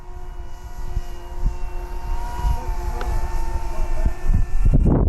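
An FMS Ranger 1800mm high-wing RC trainer plane flies slowly overhead, its electric motor giving a steady buzzing whine that shifts slightly in pitch and swells louder toward the end.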